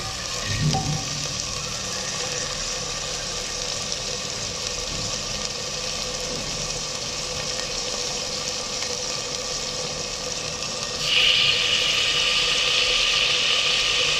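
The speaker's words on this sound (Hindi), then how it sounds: "ये मटन हमारा फ्राई हो रहा है।" Steady broadband sizzle of mutton frying in a pan with cardamom and bay leaf, continuous and close, growing a little brighter and louder near the end.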